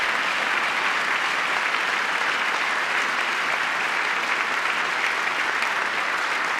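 Sustained applause from a large audience at a joint address of Congress fills the hall, dense and even from start to finish with no break.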